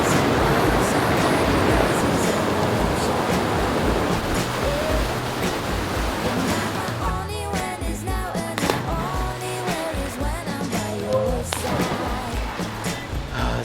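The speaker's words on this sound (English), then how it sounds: "there's basically like waterfalls all down this one, into that mainish one over there" Waterfalls along a creek on the Old Telegraph Track in Cape York make a steady, broad rush of falling water that holds throughout, with faint voices and movement in the later part.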